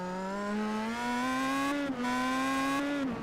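Race car engine on a street circuit at Long Beach, a steady rising whine that dips briefly as the car brushes the concrete wall, giving a short squeak and scrape before the engine note carries on.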